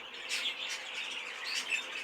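Baby budgies chirp in a steady run of high, thin tweets, close and moderately loud, with no talking over them.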